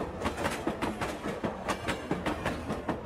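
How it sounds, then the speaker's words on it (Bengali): A cartoon train rolls along with a steady clickety-clack of wheels over rail joints, the rhythmic clatter close and continuous with no voices over it. "হঠাৎ করে জোরে বাতাস শুরু হলো আর ট্রেনের গতিটাও আগের চেয়ে কয়েক গুণ বেড়ে গেল"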